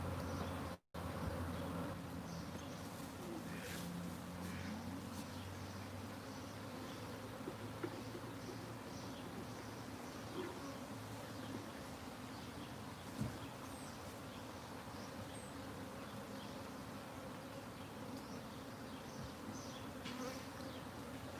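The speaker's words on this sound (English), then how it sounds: "This hive's looking so good, Nellie." Honey bees buzz steadily around a beehive, a continuous low droning hum with scattered nearby insects passing close, plus a brief thump early on.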